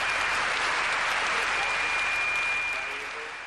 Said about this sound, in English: the audience has the loudest round of applause of the night